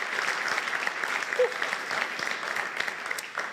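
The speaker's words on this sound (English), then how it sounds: "So a huge round of applause, and thank you to everybody in Difference Makers." Steady applause from a crowd, a dense wash of clapping that holds at an even level throughout.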